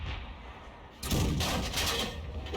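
Tank gun fire in World of Tanks, with an M12 or M44 self-propelled gun in a match: a quiet stretch, then a loud broadband blast about a second in that rolls on as a sustained boom and rumble to the end.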